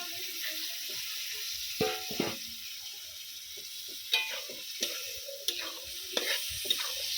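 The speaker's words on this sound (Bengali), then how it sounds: "এবারে আমি সেদ্ধ করে রাখা কাবলি ছোলাটা দিয়ে দিচ্ছি" Boiled chickpeas being stirred into sizzling masala in a pan for chana paneer, heard as a soft continuous fry hiss with a few sharper scrapes and clatters of the spoon, quiet and close.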